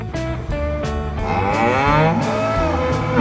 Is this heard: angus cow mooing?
yes